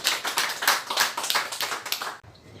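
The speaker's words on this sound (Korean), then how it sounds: "저희 김도현 단장님을 큰 박수로 모시겠습니다." Applause from a seminar audience in Jamsil, clapping steadily for about two seconds before it abruptly stops, leaving faint room noise.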